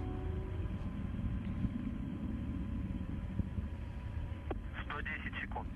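Soyuz rocket carrying astronauts, engines roaring in a steady low rumble during launch, heard faintly behind radio-style voices of mission communication.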